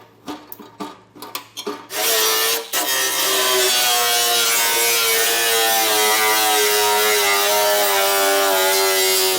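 Power cutting tool trimming a vehicle's metal heat shield under a 2021 Lincoln Aviator during a trailer hitch install: a few short bursts, then a loud sustained whining cut that runs steadily to the end, no talk.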